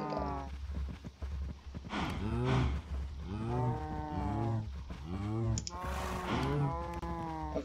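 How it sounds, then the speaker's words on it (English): Cows in the Minecraft video game moo repeatedly in a crowded pen, several overlapping drawn-out calls following one another in quick succession at moderate loudness, with no talking. "she put all those cows in there and made my game all laggy"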